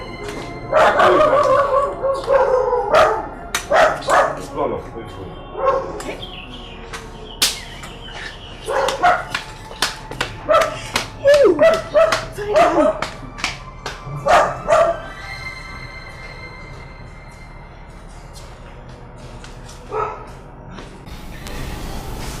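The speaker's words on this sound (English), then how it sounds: "Imagine even the dog in the palace chasing you away." A dog inside a royal palace barks in a rapid, irregular string of sharp yaps and yips, loud and close at first, then thinning to scattered barks with music-like tones underneath.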